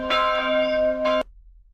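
Church bells played from a soundboard ring out in a bright, sustained chord, struck again near the end before cutting off abruptly into silence.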